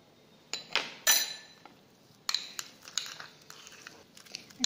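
Metal spoon clinking and scraping against a bowl while mixing garlic, salt and pepper powder for garlic bread, a series of close, sharp taps and scrapes in irregular bursts.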